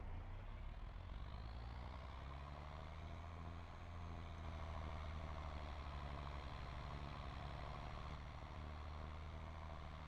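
In the farming video game Ballyspring, a tractor drags a plow across a field: a steady, droning engine hum with a low rumble that holds even throughout, unbroken by any voices.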